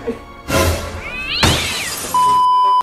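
A cat gives a short, rising meow close by, with clattering and rustling around it and a steady electronic tone near the end.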